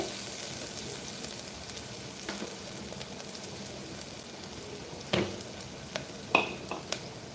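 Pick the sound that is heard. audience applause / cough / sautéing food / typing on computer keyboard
sautéing food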